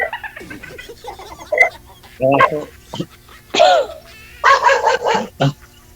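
A nearby dog barks in several short bursts, interleaved with people talking.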